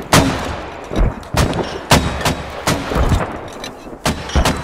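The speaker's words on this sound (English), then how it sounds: "Make sure you shoot explosive shells, boys." Mortars firing explosive shells in the military shooter game Squad, a barrage of about ten loud, sharp booming reports spaced irregularly, each with a brief rumbling tail, close and dominant.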